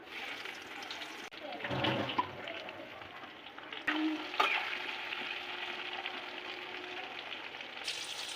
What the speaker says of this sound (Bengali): ব্রাউন করে ভাজবো বেগুনটা